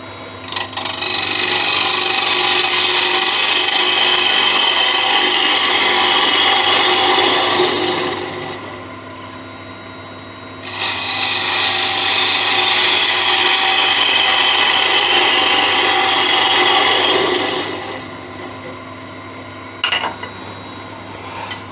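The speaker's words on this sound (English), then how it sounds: "just buffing the wax off the last piece you do on the lathe" Steady rasping friction of a cloth buffing wax off a spinning wooden candlestick on a wood lathe, two long sustained passes with a short pause between, over a constant motor hum.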